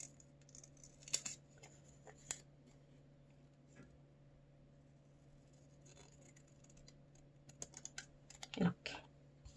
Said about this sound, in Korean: 가위로 일단 오려주세요.